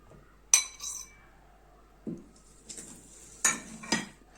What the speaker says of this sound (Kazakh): Ең алдымен біз ыдысымызға бөлме температурасындағы сары майды салып аламыз.